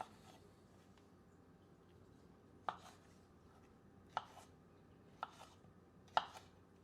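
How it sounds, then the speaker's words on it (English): A knife cuts persimmons into quarters on a board: four sharp, separate chops spaced a second or so apart over a quiet background, with no one speaking. "we're removing the tops and cutting the persimmons into quarters"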